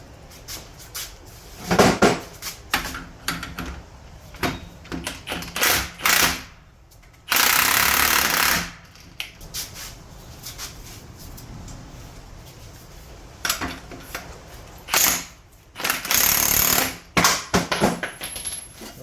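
Spring compressors are tightened on a 2003-2008 Toyota Corolla front strut coil spring, giving irregular close metallic clicks and clanks with several louder bursts of rapid ratcheting or impact-driver rattle between quieter pauses.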